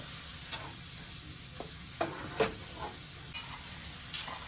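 Seafood cooking in a pot is stirred, giving sparse scraping and clinking strokes over a faint, steady sizzle, with no voices.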